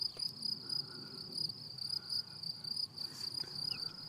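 Insects chirr in a wildflower hay meadow, a continuous high pulsing trill from crickets, steady and fairly close, with no voices.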